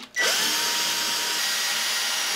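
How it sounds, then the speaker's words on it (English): An electric drill spins up suddenly and whines steadily as it bores into wood, close and loud without any talking. "I drilled these holes and I wiggled the drill to make them elongated"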